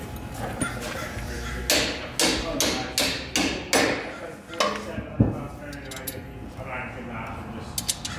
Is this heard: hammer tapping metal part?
yes